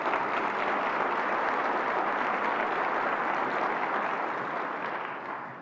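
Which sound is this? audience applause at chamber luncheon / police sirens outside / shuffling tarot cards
audience applause at chamber luncheon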